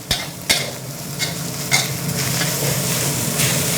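Rice sizzles steadily as it is stir-fried over high heat in a hot wok while a metal spatula scrapes and clanks against the pan in a few sharp strikes.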